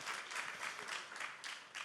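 Faint, steady applause from the audience at the TV9 Global Summit, a dense patter of clapping that carries evenly for about two seconds with no voices over it.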